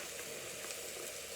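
A pot of Caribbean black soup simmers in a large stock pot, a quiet, even bubbling hiss that runs steadily without pause, faint and unaccompanied by any voice.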